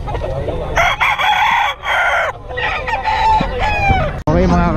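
Roosters crow loudly and repeatedly amid clucking chickens at a busy Filipino chicken market, several overlapping calls close by with crowd noise and some voices underneath.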